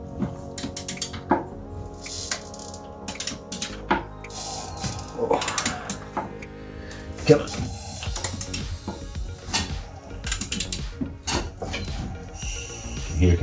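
A ratchet slowly turning a Mk4 Volkswagen Jetta TDI engine over by hand, with irregular clicking and mechanical clunks as compression bleeds off, heard close up in a garage, with a brief spoken word.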